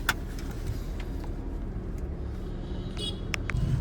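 A car drives along a road in the rain on the way to a clinic, with a steady engine and road rumble heard from inside the cabin and a few brief clicks.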